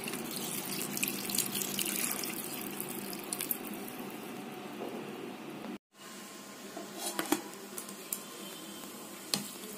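Water poured from a tap-like stream into a bowl of soaking rice and chopped bottle gourd for idli batter, a steady rushing splash with a brief dropout midway, then resuming with small clinks.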